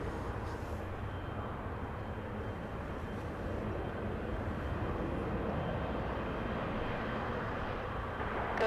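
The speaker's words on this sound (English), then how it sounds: "Zooming in to the plane that's very far away as it made the left turn out of, right out of departure." A faint steady jet roar comes from an airplane departing Los Angeles International Airport, far away and turning after takeoff, sustained without breaks.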